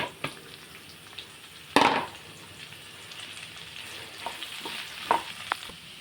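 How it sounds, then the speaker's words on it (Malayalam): Three finely sliced onions with chili sauté in a pan for a chicken roast, giving a steady close sizzle with a sharp utensil clack early on and scattered stirring scrapes later. "ഇതൊരു ബ്രൗൺ കളർ ആവുന്നത് വരെ വഴറ്റണം."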